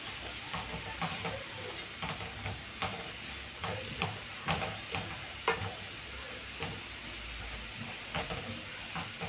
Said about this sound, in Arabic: اول ما يقربوا ان هم يتشوحوا احاول ان انا اقلبهم عشان ياخدوا وش تاني